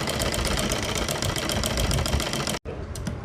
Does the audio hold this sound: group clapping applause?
no